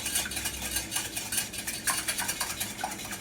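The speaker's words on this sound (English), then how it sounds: "I'm just going to give that a quick stir" Quick stir of two egg yolks, one whole egg and a tablespoon of vanilla in a bowl for chocolate chunk cookie dough, a steady run of close, light utensil clinks and scrapes with no talk.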